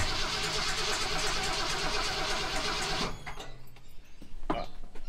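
A 1966 Ford Mustang engine cranks and turns over loudly with a steady rumbling roar for about three seconds, then cuts out, leaving faint clicks and rattles.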